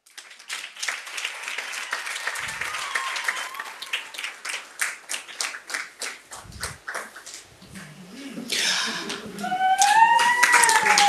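Audience applause at a virtual graduation ceremony honouring a procurement and logistics management graduate, many hands clapping in a dense, steady patter that swells louder toward the end, with no talk over it.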